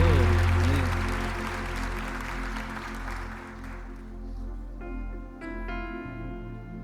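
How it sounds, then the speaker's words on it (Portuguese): A church congregation applauds, a broad crowd clapping that starts strong and gradually thins out while sustained musical tones ring in underneath toward the end. "Se você sentiu o amor de Deus, pode aplaudir ao Senhor aí"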